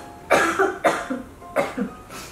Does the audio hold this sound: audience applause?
no